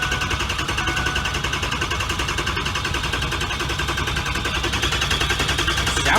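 A 6.0 engine, ailing and awaiting new parts, running after a battery charge, with a loud, rough, fast, even pulsing idle that carries on steadily throughout.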